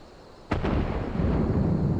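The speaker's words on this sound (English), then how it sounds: "Cannon fire! Where did it come from?" Cannon fire in the Final Fantasy XIV: Stormblood game opens with a sudden loud boom, a quick second blast, then a heavy rolling rumble that holds steady to the end.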